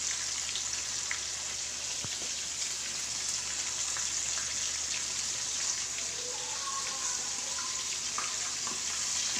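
Chicken pieces deep-fry KFC style in oil over a slow flame, giving a soft, steady, even bubbling hiss throughout with occasional faint crackles, close but fairly quiet, no talking.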